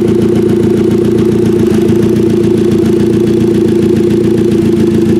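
A Mazda 3 demolition derby car idles roughly on three cylinders with one ignition coil unplugged, giving a loud, close, uneven lumpy engine drone that runs steadily throughout with no voices.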